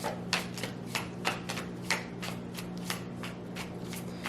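Tarot cards being shuffled by hand, giving a rapid, even run of close crisp riffling clicks and soft flutters, heard alone without talk.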